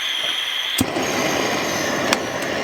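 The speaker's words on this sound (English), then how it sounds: "I'm going to use a butane torch to heat the soldering iron" A butane torch heating a soldering iron, used to install a backup camera in a camper, gives a loud steady roaring hiss close to the mic, broken by two sharp clicks or pops.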